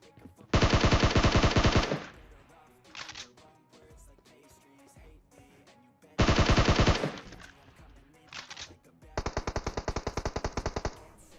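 Automatic weapon fire in the battle royale game PUBG Mobile: a long, loud burst, a short one, another sustained burst, then rapid rhythmic shots near the end, with quieter game ambience between.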